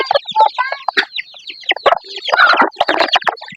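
Chickens cluck and squawk close by inside a coop, a busy overlapping chorus of sharp calls and chatter with brief gaps between bursts.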